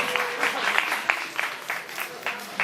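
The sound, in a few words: audience applause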